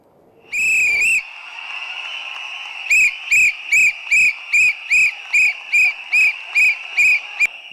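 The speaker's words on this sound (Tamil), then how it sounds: "தனது பேச்சு நிறைவாக மேடையில் விசிலடித்த விஜய்" A man whistles on stage at a political rally. One long shrill blast is followed by about a dozen short, evenly spaced piercing whistles in a steady rhythm, loud and close.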